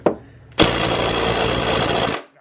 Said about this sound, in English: his 20-volt DeWalt can break these loose